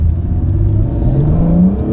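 A close Acura NSX engine revs loudly and steadily, its drone gliding upward in pitch across about two seconds with no talk over it.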